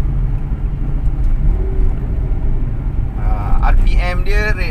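A Maserati GranTurismo S engine hums steadily at close range, then a short rev rises as the automatic gearbox drops a gear; someone talks over the engine toward the end.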